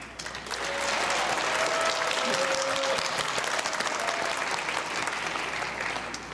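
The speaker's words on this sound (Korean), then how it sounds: "격려의 박수와 축하를 함께 나누고 싶습니다" Audience applause fills a university graduation ceremony hall, dense sustained clapping from a large crowd that swells in and holds steady, with faint voices briefly audible beneath it.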